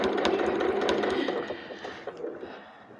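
A sewing machine stitching a fabric night mask, a short run of fast rhythmic whirring and ticking that slows and fades toward the end.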